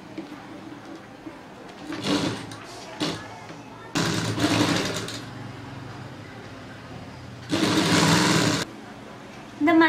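A sewing machine stitches a straight seam in a cloth skirt made from waste fabric, running in several short and longer whirring bursts with pauses between, close by, with a voice talking quietly at times.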